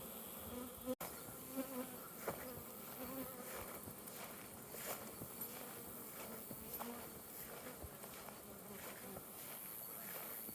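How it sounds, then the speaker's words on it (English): Dense, steady buzzing of many honey bees swarming close by, a continuous drone with a brief knock near the start. "Charlotte, did you use smoke on those bees? How are they behaving?"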